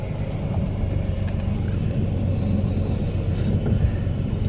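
A 2004 Dodge Dakota four-wheel-drive pickup idles and moves in drive, giving a steady low engine rumble with a dense, even drone throughout.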